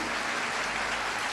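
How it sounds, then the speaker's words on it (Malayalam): Loud, steady clapping from a church congregation at a prayer service, a dense continuous wash of applause with no voices over it. "ഉച്ചത്തിൽ എന്നാണ് കൈയടിച്ച്."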